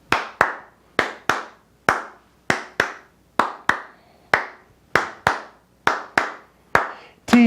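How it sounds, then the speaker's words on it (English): Hands clap a syncopated short-long-short rhythm, the pattern repeated several times in a row: crisp, close, evenly spaced groups of claps with no other sound. "Would you clap that with me?"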